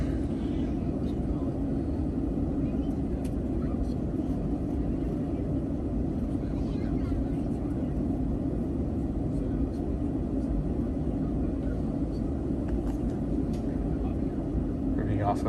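A Boeing 737-800 in Microsoft Flight Simulator taxis slowly, giving a steady low engine rumble and hum that stays even and unbroken throughout, with faint occasional clicks above it.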